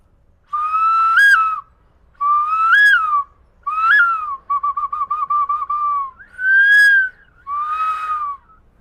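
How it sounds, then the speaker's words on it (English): An ancient single-hole Mayan whistle from Lake Atitlan, Guatemala, sounds six separate shrill blasts. Most are steady tones, one is a rapid warbling trill, and each is set apart by a brief silence. "I want to show you this ancient instrument. Is from Guatemala, from Lake Atitlan. Very old, a Mayan whistle."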